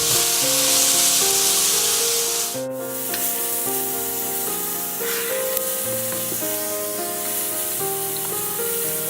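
Peppers sizzle in a hot wok for pepper steak, a steady hissing fry under faint background music, with a brief scrape partway through.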